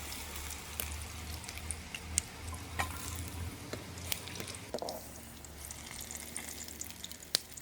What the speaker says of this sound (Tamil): இப்படியே எல்லா கத்திரிக்காயும் போட்டு பொரிச்செடுக்க போகிறேன்.